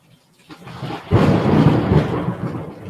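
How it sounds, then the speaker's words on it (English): Thunder in a thunderstorm rumbles in low and swells into a long, loud roll after a quiet start, with rain hissing along underneath. "you hear that thunder?"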